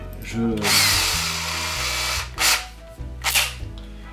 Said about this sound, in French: Pour l'instant on va percer les pipes.